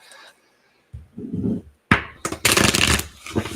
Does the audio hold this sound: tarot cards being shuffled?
yes